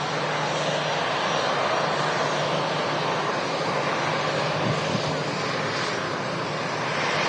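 An airliner takes off at Manchester Airport, its engines producing a loud, steady broadband roar that holds throughout at a moderate distance.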